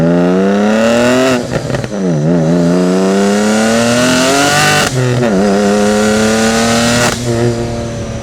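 A tuned 650 hp 2016 BMW M3 F80 with a six-speed manual and Akrapovic exhaust revs hard through several gear changes, loud rising engine howl, turbo whistle over the top and brief dips between shifts.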